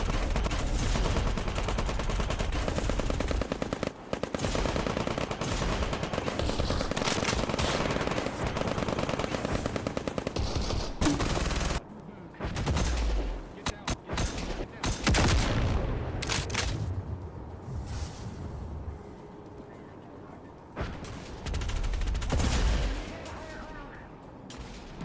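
Sustained machine gun fire in a video game combat scene, dense and loud for the first half, then sparser bursts, shots and booms with brief gaps, all continuous action without a break.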